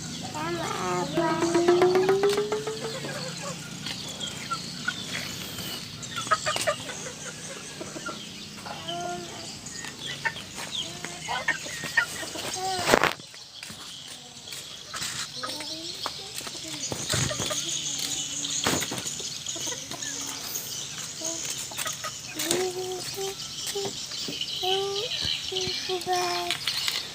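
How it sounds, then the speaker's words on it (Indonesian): Backyard chickens clucking and calling while being fed at a home coop, scattered close clucks and a brief rooster-like call early on, with people talking in the background. "kasih makan ayam"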